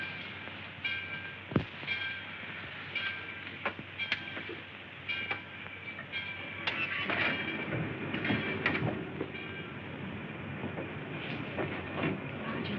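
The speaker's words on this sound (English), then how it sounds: "the train's moving" A train moving along the rails in a 1941 film scene, with a steady rumble, a rhythmic clatter and sharp metallic clicks that build toward the end, heard alone without talk.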